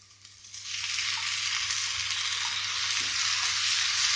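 Finely chopped tomatoes fry with onion and chilli in a pan, a loud, dense sizzle that swells up within the first second and then holds steady, close and unbroken, with no voices.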